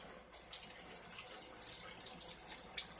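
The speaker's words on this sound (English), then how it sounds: "set this over here so I can wash my hand" Tap water runs steadily into a kitchen sink for hand washing, a continuous close hiss and splash with no talk over it.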